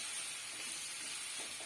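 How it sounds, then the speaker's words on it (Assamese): Jujube pickle with jaggery frying in a pan, a steady soft sizzling hiss with faint stirring scrapes, close up and even throughout. "এয়া মোৰ 2 মিনিটমান ভজাৰ পাছত লাহে লাহে গুড়খিনি গলিবলৈ ষ্টাৰ্ট হৈ গৈছে"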